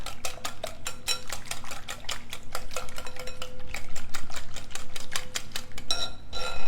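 A spoon stirs corn pudding batter seasoned with salt and white pepper in a bowl, giving rapid, regular clinks and scrapes close by, growing louder toward the end, with no voice.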